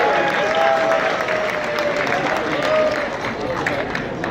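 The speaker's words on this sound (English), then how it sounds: "So give your neighbor a round of applause." Audience at a mayor's holiday party applauding, a dense steady wash of clapping with some crowd noise that holds at an even, fairly loud level for several seconds.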